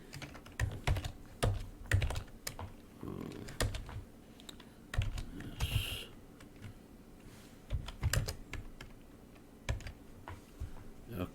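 Close computer keyboard typing in uneven bursts of clacking keystrokes, with short pauses between runs.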